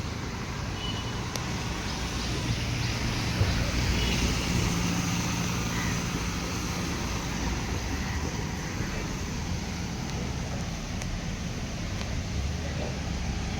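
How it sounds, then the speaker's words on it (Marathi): Road traffic in Mumbai rumbles steadily during a morning walk past tall buildings, a continuous dense hum of passing vehicles with no clear breaks. "आता हळूहळू गाड्या वाढत चालल्यात."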